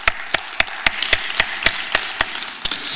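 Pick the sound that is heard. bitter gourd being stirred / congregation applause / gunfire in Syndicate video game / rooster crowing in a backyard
congregation applause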